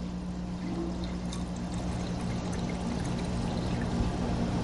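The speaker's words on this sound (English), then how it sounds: "Fill that with water." Water poured steadily into a glass cylinder vase for a flower arrangement, a continuous close splashing pour with a low hum behind it and no talk.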